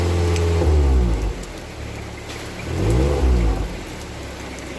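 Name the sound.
Suzuki New Carry pickup engine running smoothly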